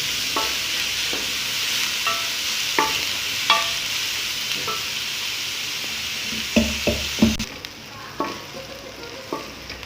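Onion lightly frying in a pan for stuffed tinda, a close steady hiss with scattered stirring clicks, a cluster of sharper scrapes late on, then the sizzle quietens, no voices.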